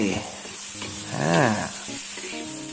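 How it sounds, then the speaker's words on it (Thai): Bitter melon stir-fries with egg, oyster sauce, sugar and ground pepper in a hot pan. A close sizzle runs under brief spoon scrapes, with a short voiced murmur partway through. "ผัดเลย"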